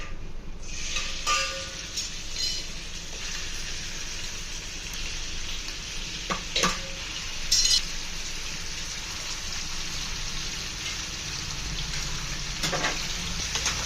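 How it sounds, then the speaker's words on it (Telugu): Chicken pieces drop into hot oil for a chicken curry and sizzle with a steady, dense crackle close up, broken by occasional clatters and scrapes of stirring in the pan. "ఆయిల్ హీట్ ఎక్కింది బాగా ఇప్పుడు చికెన్ని యాడ్ చేసుకుంటున్నాను"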